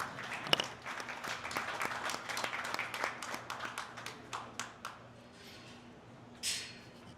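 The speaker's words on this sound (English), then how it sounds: "Let's go ahead and give them all a big round of applause." Spectators applaud in a large arena at a breeding beef show, with several seconds of brisk, scattered clapping from a moderate crowd that thins and fades, then a short final burst.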